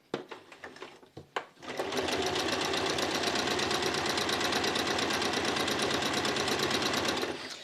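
A home sewing machine stitches fabric pieces for a bottle carrier, starting with a few brief clicks and then running steadily at high speed for about six seconds, a close, loud, even mechanical whir.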